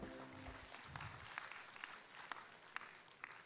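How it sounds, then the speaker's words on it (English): An audience at a biosafety symposium gives a round of applause, soft and somewhat distant clapping spread across a hall, after a brief voice at the start. "Ladies and gentlemen, a warm round of applause for Professor Jim Dunwell."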